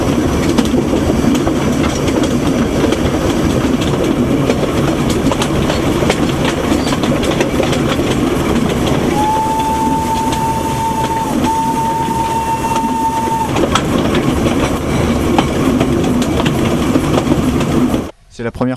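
Steady clattering rumble of a narrow-gauge heritage railway train on the Vallée de l'Ouche line, continuous and close, with a brief high wheel squeal midway and people talking over it.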